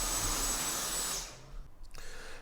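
Steady high-pitched whirring of a Dyson V10 cordless vacuum cleaner running at a loud setting, close and continuous, then cutting off partway through to leave faint handling noise.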